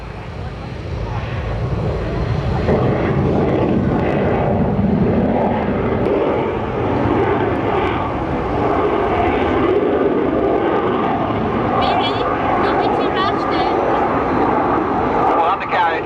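A MiG-29 fighter jet roars past at an air show, its engine noise loud and sustained throughout with a broad rumble, while a commentator talks over it.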